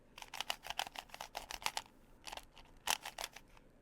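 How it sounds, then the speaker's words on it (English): A cheap one-dollar Rubik's cube being turned roughly, giving bursts of rapid dry plastic clicks and scrapes up close, with a short pause before a few more harsh turns. "The turning, horrible."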